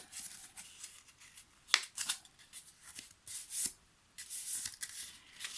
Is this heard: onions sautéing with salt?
no